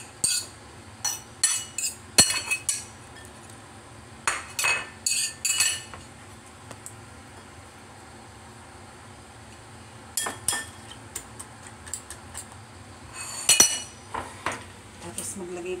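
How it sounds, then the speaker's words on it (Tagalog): Chopped okra is mixed in a bowl for tortang okra (okra omelette), giving scattered clinks and scrapes of a utensil against the bowl in short clusters, close but soft, with quiet gaps between. "Tapos, i-mix po natin si okra na ganyan"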